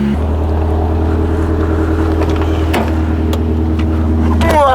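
A Toyota AW11 MR2 drives with a low, constant engine drone and road rumble heard from inside the cabin, with a few faint knocks and a brief rise near the end.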